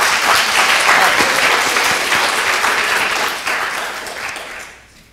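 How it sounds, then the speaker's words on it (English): Loud, dense applause from an audience at a poetry recitation event, sustained steadily for several seconds before tapering off at the end. "So just let's have a round of applause for everybody."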